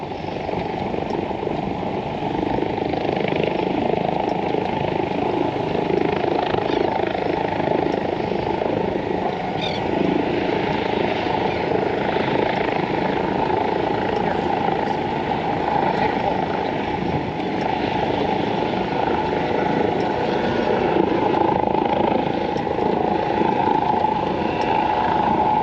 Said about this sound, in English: There's a helicopter taking off over there.